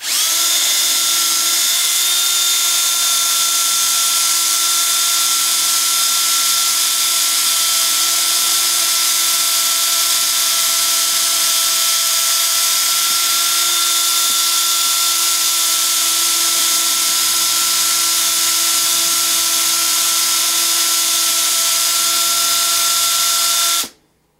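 A lathe machines the edge of an M5 screw blank to a taper. It gives a steady, loud, high-pitched motor whine with a constant tone for more than twenty seconds, then cuts off abruptly.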